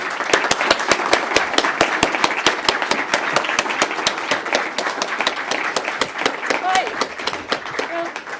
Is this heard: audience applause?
yes